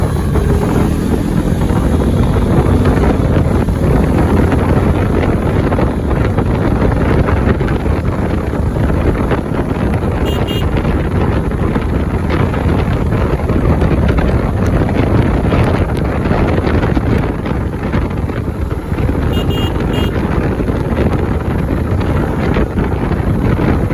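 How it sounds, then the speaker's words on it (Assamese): Two riders on a motorbike along a highway, with loud, steady wind rush buffeting the microphone for the whole stretch and no talking. "মোৰ বাইকখনত গৈ আছোঁ দুইজনে আমি হাইৱে পাই গ'লোঁ"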